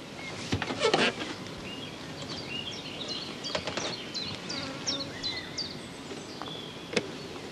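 Honeybees swarm over frames lifted out of a hive, a steady close buzzing drone with scattered sharper passes and a few faint bird chirps in the background.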